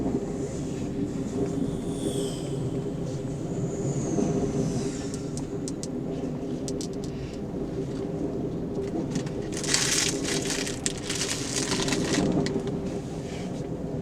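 An Amtrak California Zephyr passenger train rumbles along steadily and loud throughout, with a long horn blast near the start and bursts of rattling and clatter later on.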